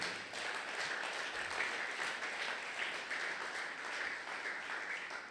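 A church congregation at a Sunday thanksgiving and praise service applauds for Jesus in a sustained, even wash of clapping that fills the room from start to finish.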